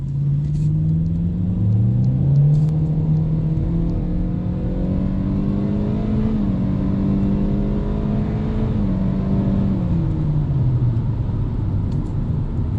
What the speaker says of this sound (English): it's going to get a little bit noisy in the cabin as you get up to a higher speed